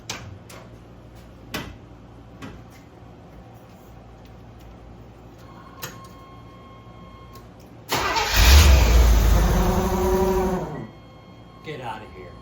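A 1981 Corvette that sat unused for 15 years cranks and catches, a loud burst of engine noise lasting a few seconds after quieter clicks and shuffling, then dropping away.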